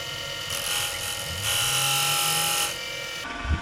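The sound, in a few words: skew chisel scoring a line on wood lathe pen blank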